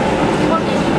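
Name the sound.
metro train riding underground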